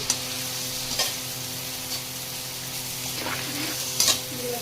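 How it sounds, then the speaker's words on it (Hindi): Poha being stirred in a hot kadhai, with a steady sizzle of frying under occasional scraping strokes of the spoon, close up and without speech. "अब टाइम में पोहा डाल रही हूँ"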